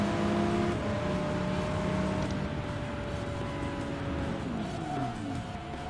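Race car engines in the video game Gran Turismo Sport drone steadily with shifting tones, a continuous mechanical roar with no voices over it.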